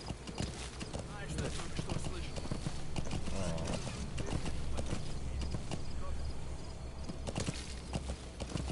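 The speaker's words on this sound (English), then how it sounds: "just a random horse coming through the desert" In Metal Gear Solid V: The Phantom Pain, a horse crosses the desert with steady hoof clip-clops and a brief snort, all under continuous talk from a player.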